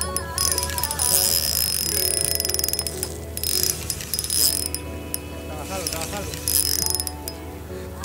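The drag of an ultralight fishing reel clicks in quick ratcheting bursts while a jack mackerel is fought during rockfishing, loud and close, with excited voices between the bursts.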